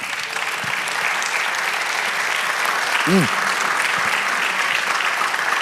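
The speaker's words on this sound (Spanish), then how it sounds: "Da el aplauso al Señor." A church congregation applauds during a sermon, steady loud clapping across the whole stretch with a brief voice cutting through the middle.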